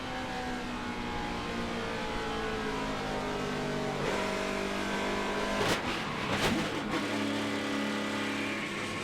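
NASCAR Camping World Truck Series race truck engine at wide-open throttle on the Darlington oval, a loud sustained onboard roar with rising and falling pitch and brief harsh bursts near the end.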